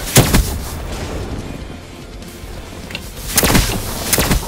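Bursts of gunfire from the Tempest weapon in the Black Ops III video game, sharp loud reports at the start and a cluster of shots near the end, with a quieter rumbling stretch between.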